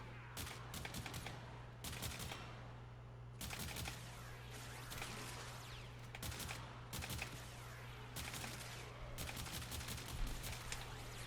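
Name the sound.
gunfire from a secondary weapon in the video game Warframe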